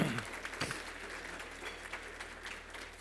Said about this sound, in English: We had to give them all a round of applause for the work they did.